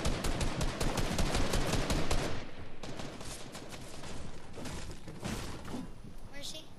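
Rapid bursts of Fortnite gunfire crackle densely for the first couple of seconds, then thin into scattered shots and in-game clatter, with people talking over the action.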